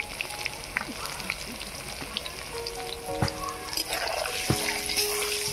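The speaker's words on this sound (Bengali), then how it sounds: "এবারে আলুটাকে ভালো করে ভেজে নেব।" Potatoes frying in oil with salt and turmeric for an ol chingri dish, a steady broadband sizzle throughout with a few sharp clinks and scrapes near the end.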